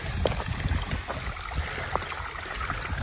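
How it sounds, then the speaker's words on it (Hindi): Water running steadily through a farm irrigation channel, a continuous low rushing and trickling flow heard close by, with no talk over it. "ऐसे फ्लो चल रहा है पानी का"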